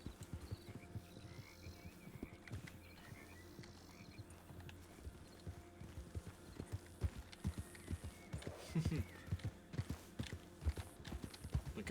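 Horse hooves clip-clop steadily in a ranch roleplay video game, with repeated hoof strikes and creaking tack sounds at moderate level, and no talk over them.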